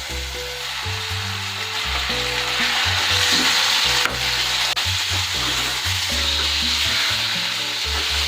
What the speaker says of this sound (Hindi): अब इसमें मैं चिकन डाल दूँगी।